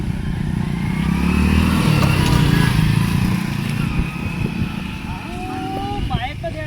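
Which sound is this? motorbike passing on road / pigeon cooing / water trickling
motorbike passing on road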